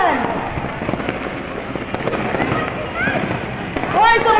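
Firecrackers go off at a burning firecracker vendor's stall in dense, rapid crackling bursts, close and loud, while excited voices shout over the continuous popping.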